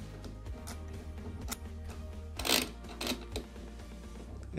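A lock cylinder is shifted about inside a door lock to line up with the fixing screw, giving close metallic clicks and rattles over a steady low hum.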